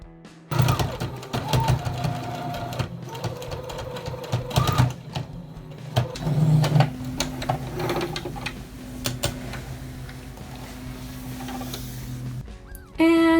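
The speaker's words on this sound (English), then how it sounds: "then I am going to sew them up" A sewing machine hums and rattles in steady runs while stitching up the sides of a garment, pausing briefly between stretches, close and moderately loud.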